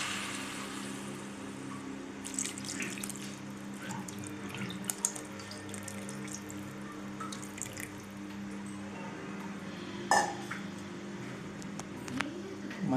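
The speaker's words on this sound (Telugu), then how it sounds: "అందులో చింతపండు రసం పోయాలి" Tamarind juice poured into a pan of okra curry (bendakaya pulusu): a steady, fairly faint trickling pour over a low background hum, with a brief sharper clatter near the end.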